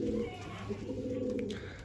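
A domestic pigeon coos close by, a low, steady, throaty rolling call that carries through the whole stretch, with faint chirps above it.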